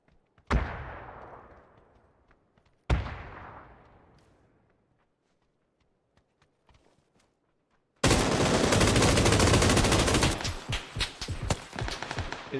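Submachine gun fire in the shooter game PUBG: two sharp single shots with ringing decay, then a loud sustained automatic burst that tapers into scattered shots, with no talking.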